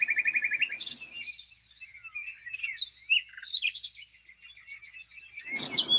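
Outdoor birdsong on an overcast day: a steady run of bright chirps and trills, moderately close and continuous, with no talk over it.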